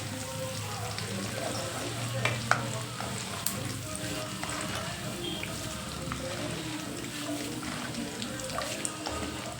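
Garlic fries in oil in a steady, quiet sizzle with occasional faint stirring clicks and pops, while someone talks over it.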